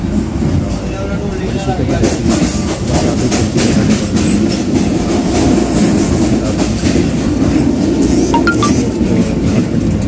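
A passenger train running on rails from Lahore to Jhelum gives a loud, continuous rumble with rhythmic clickety-clack and metallic clinks throughout, heard close from on board.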